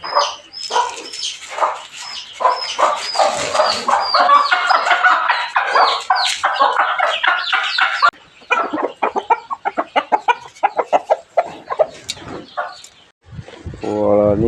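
Chickens and roosters cluck and call repeatedly in a rural yard, a dense, busy flock close by, thinning into scattered clucks toward the end with no talk over them.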